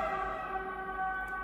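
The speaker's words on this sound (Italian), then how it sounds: "Sì, pure l'ambulanza qui." An ambulance siren sounding steadily in the distance outside a kitchen, its sustained wailing tone holding fairly level over a faint room background, with no voices.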